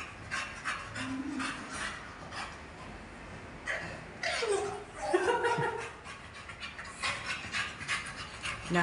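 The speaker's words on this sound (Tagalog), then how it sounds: "Hingal na hingal siya, oh." A dog at an animal clinic panting heavily during grooming, with rapid breathy huffs running throughout over a noisy indoor background, broken by a few short whimpers and voices nearby.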